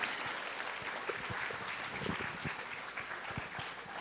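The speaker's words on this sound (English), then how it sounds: "A big round of applause to them." An audience claps for a graduating batch of 2025 at a school event, a steady, moderately loud patter of many hands holding evenly for the whole stretch.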